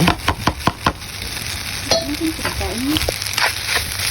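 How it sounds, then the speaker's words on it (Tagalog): Fried rice with beef being stirred in a hot pan, with a run of sharp clinks and scrapes at the start, then steady sizzling. Faint chirp-like sounds come through near the end. "Ayan, haluin natin mabuti kasi yung rice."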